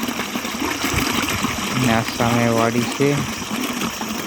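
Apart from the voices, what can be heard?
water gushing out from a second electric pump motor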